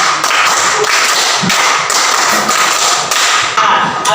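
Classroom students clapping a patterned rhythm together, a dense continuous burst of many hands tapping and thudding throughout, loud and close with no talk.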